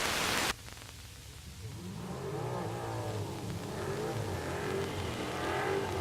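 A 1971 Holden Monaro race car at a vintage race week revs its engine, rising and falling in pitch in repeated sweeps, close and strong, after a sharp burst of noise at the start.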